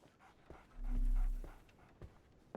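A dog panting in Sherlock Holmes Awakened, soft rhythmic breaths with a brief whimpering whine in the middle, fairly close but quiet.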